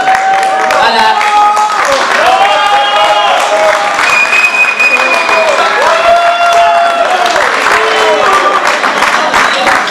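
Audience applause and crowd noise at a Congolese fashion and couture show in Kinshasa, steady loud clapping throughout with whistles and a voice talking over it.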